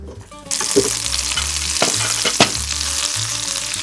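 Butter melting and sizzling in a pan for a dal tadka, a loud, steady crackle that starts abruptly and continues close up with a few sharp pops, no voices.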